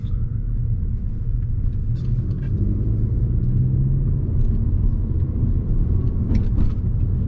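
A manual-transmission car hums with a low, steady engine rumble from inside the cabin as it drives along, a continuous close drone with a gradual slight rise in level.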